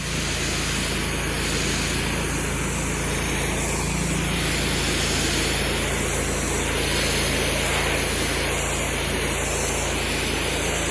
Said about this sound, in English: we're going to compare the turbo nozzle to your ordinary 15-degree spray tip. So here's your stock 15-degree spray tip.